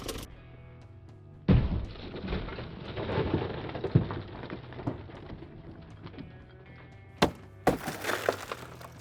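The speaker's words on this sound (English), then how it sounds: "we'll see how much force it does take to make this tool break the window" An A&M Goodman combat knife breaks a car window, producing a sharp crack followed by a long crunching, crackling spill of glass and several more sharp snaps near the end.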